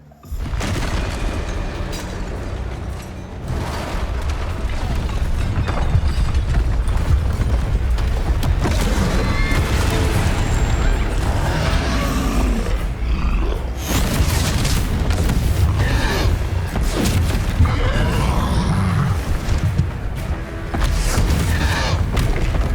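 Bombarda spell explosions in the video game Hogwarts Legacy, heavy booms and thuds over a dense, continuous low rumble, loud and sustained with repeated blasts throughout.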